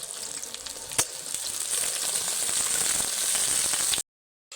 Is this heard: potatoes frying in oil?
yes